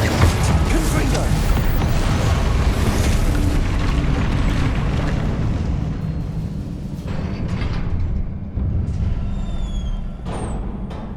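A Confringo fire-blast spell in Hogwarts Legacy erupts as a loud, sustained booming roar with mechanical rumble, easing off after several seconds while faint chimes ring out near the end.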